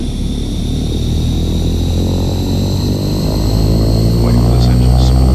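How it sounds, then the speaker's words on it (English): A King Air 350 turboprop engine spooling up in the X-Plane 11 flight simulator, a loud, steady turbine roar with a high whine that holds level and builds slightly toward the end. "Wait for this engine to spool up."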